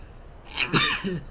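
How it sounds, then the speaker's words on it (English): A single close, sharp human sneeze with a short inhaled buildup followed by an abrupt burst, heard alone in a quiet room. "I'm gonna sneeze."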